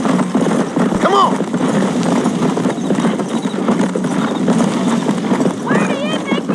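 In the video game Red Dead Redemption, a horse gallops with rapid, rhythmic clip-clop hooves that hold steady and loud throughout, while a voice talks over them and a brief whinny rises near the end.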